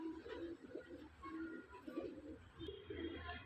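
A red pigeon, a Punjabi Malwai breed, coos in a repeated soft low pattern, several phrases in quick succession, faint and close with light background noise.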